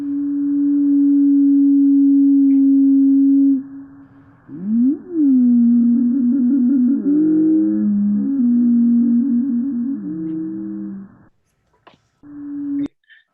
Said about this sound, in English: I'll play a slowed down version of that song so you can hear the overtones in it.